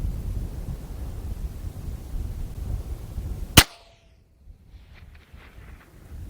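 A single sharp rifle shot from an old, lightly used Anschutz .22 with a set trigger, fired outdoors on a long-range shooting session; one loud crack cuts through steady wind noise, followed by a brief faint tail and quiet ambience.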